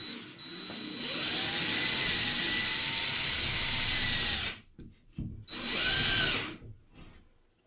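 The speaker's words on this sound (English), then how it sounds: "when I drill out just the centre, it frees up enough space" A power drill whines loudly as it bores into plasterboard, running continuously, stopping briefly, then spinning up again in a shorter burst.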